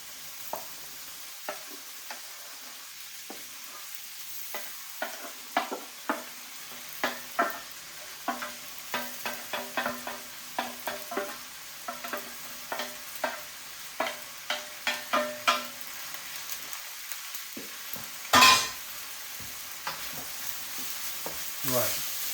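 Rice for chicken fried rice being stir-fried in a hot wok, with a steady sizzle broken by a regular run of scraping, tossing strokes, each one clear and close.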